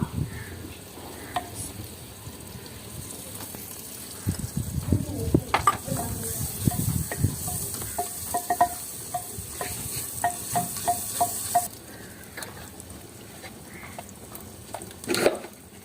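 Chopped ginger and garlic fry in a pan for a village-style turnip and pea curry, giving a steady sizzle with bursts of stirring and scraping clatter, close and fairly loud, with no talk.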